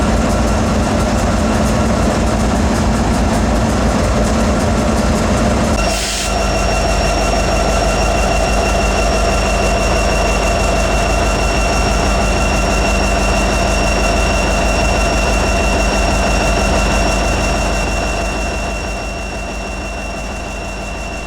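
GE and EMD diesel locomotives roll past with an empty train in Oklahoma City. Their prime movers make a loud, steady, close rumble with a constant metallic drone. It fades slightly near the end.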